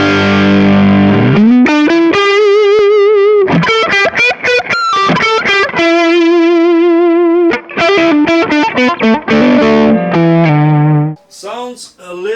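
Electric guitar through a Kemper with a booster in front of the Green Screen drive, loud and overdriven, plays sustained bends and choppy chord stabs with vibrato, then fades into a short, quieter flurry of notes.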